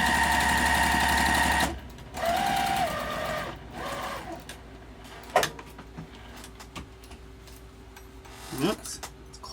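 A sewing machine top stitches a fabric wallet made from fat quarters, with short bursts of rapid mechanical stitching and pauses between them, plus clicks and handling noises near the end.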